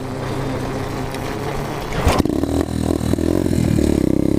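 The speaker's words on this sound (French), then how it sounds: "on va voir si elle démarre à la poussette dans une descente, la Dirt." A dirt bike being push-started down a slope: rolling and scraping first, then the engine catches with a sharp burst and settles into a loud, close, steady idle with rising revs.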